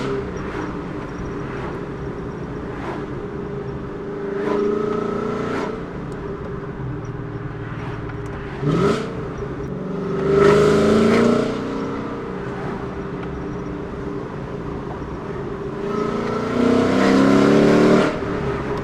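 Deep V8 exhaust from an S197 Mustang GT fitted with Valvetronic Designs mufflers, a steady rumble that swells into several loud revving bursts and pulls, heard close and without talk.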